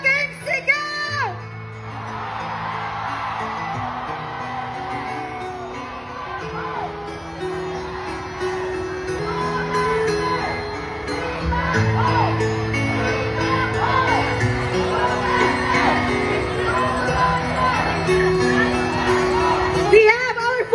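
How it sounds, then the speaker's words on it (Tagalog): A large crowd at a Davao City anniversary celebration shouts and cheers loudly and steadily throughout, with music playing underneath. "Isang malaking sigaw!"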